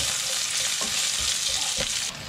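Onions frying in a pan with golden-browned garlic crackle in a dense, bright sizzle, with a couple of stirring scrapes, close and fairly loud for a couple of seconds.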